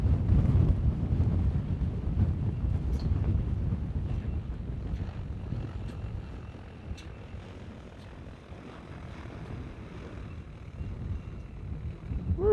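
Strong wind roars across the microphone as a DJI T100 agricultural spray drone is brought in to land over a field, a steady low rumble with gusts that ease midway and build again toward the end.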